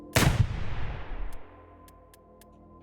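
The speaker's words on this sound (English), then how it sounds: "That's gonna keep happening every single time I shoot the gun." A single loud gunshot in the video game Receiver 2 booms up close and rings out in a long decaying tail, followed by a few soft mechanical ticks with no talk.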